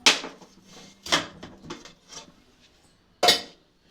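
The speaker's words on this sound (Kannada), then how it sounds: "ಇವಾಗ ಕುಕ್ಕರ್ ತಣ್ಣಗಾಗೈತೆ ಕುಕ್ಕರ್ ಮುಚ್ಚಳ ತೆಗಿತಾ ಇದ್ದೀನಿ" A cooled pressure cooker holding radish dal sambar has its lid opened, giving a few separate metallic clanks and clinks with short quiet gaps between them.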